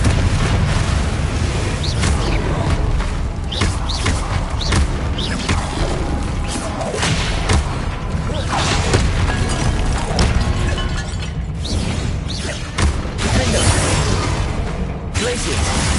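Confringo blasting spell cast in Hogwarts Legacy, a loud dense barrage of booming explosions and crashes with rumbling combat noise throughout, dotted with sharp bursts and voices.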